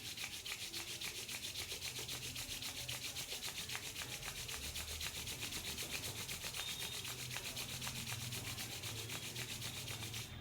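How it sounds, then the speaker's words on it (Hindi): Two hands rub briskly together in a steady back-and-forth rhythm, close and soft, a continuous dry friction sound with no talking. "तीस सेकेंड तक अपने हाथों को रब करते रहिए।"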